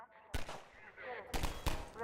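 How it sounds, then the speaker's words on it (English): Mounted turret in a video game firing at breakable crates: short bursts of heavy shots, one near the start and two clustered toward the end, separated by quieter game ambience with a faint voice. "The turret firing at the breakable crates behind teaches players not to take the threat head-on"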